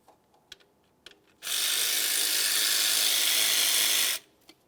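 A 13mm socket ratchet turns a bolt on a 2011-2018 Volkswagen Jetta during water pump and timing belt work, giving a close, steady buzzing run of about three seconds between a few small clicks.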